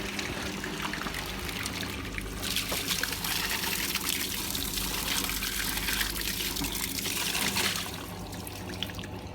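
A faulty Hotpoint Aquarius WMA50 washing machine pumps out water, a continuous near hum with gushing, trickling water that swells louder through the middle then settles back, with no talk.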